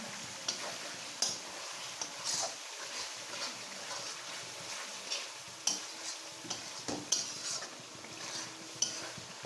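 Masala is fried and stirred for a meat curry, a soft underlying sizzle punctuated by repeated sharp ticks and scrapes of a spoon against the pan at an uneven rhythm.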